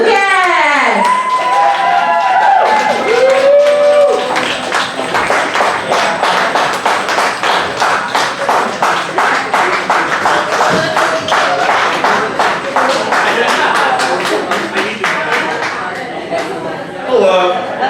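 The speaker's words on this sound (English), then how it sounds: "let's give a big round of applause for our next poet coming up to the stage" Audience at a poetry slam breaking into sustained applause, dense rapid clapping with some cheers and voices, loud and close, rising after a few opening words and fading out near the end.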